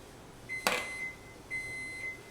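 An oven signals that it has finished preheating for muffins with two steady, fairly faint electronic beeps about a second apart. A short clatter sounds just after the first beep.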